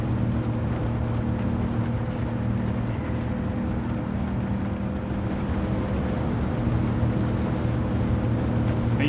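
Steady broadband wind rush from driving a car at speed in Gran Turismo 7, a constant loud roar with low rumble underneath, unbroken for the whole stretch.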